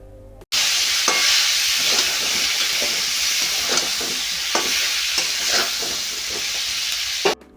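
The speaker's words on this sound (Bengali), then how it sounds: "আবারও সমস্ত রকম সবজিগুলোকে ভালো করে ভাজতে হবে একসাথে।" Raw banana, drumstick pieces and peas fry together in hot oil in a pan for a Bengali fishless curry, giving a loud continuous sizzle broken by repeated stirring scrapes, with no voices.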